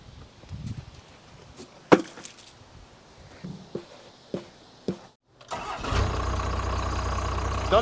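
An old Cummins diesel plow truck cranks briefly after a few clicks and knocks, then catches quickly and settles into a loud, steady, rumbling idle close by.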